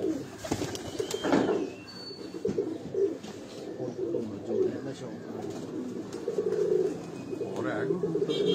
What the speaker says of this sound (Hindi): ये उस्ताद जज भट्ट के पास पुराने इनके कबूतर हैं।